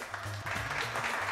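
Studio audience applause on a television music show, a short burst of clapping heard under a low musical drone, fairly close and steady.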